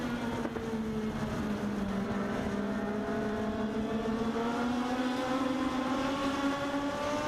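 Legends race cars roar around Meridian Speedway in a continuous engine drone whose pitch climbs and falls as they pass, heard from a distance and steady throughout with no voices.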